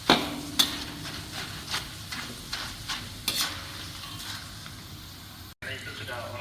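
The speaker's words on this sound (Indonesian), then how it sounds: "Nah ini kerupuk sedang digoreng" Cassava crackers fry in hot oil with a soft bubbling sizzle, broken by sharp clacks and knocks of utensils near the start and several scraping strokes, with faint background activity.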